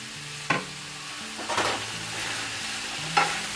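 Paneer cubes hiss and sizzle in a hot kadai pan, a steady frying noise with a few sharp clinks of a spatula stirring.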